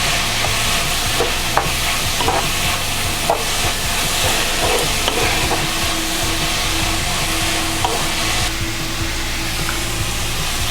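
A spiced vegetable quesadilla filling is stirred in a hot pan, giving a dense, constant sizzle with light scraping taps from the utensil, loud and close throughout.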